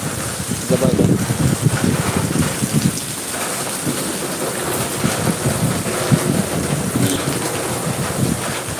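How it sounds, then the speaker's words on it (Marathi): Heavy rain pours steadily outdoors in a dense, loud roar that holds at the same level throughout, with wind buffeting the microphone. "पाऊस तर आहे मित्रांनो पाऊस भरपूर आहे"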